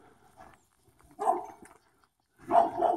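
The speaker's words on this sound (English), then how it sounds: "Hear that dog barking?" A dog barks in a residential neighborhood, two short separate bark bursts a little over a second apart, moderately near, outdoors with quiet gaps between.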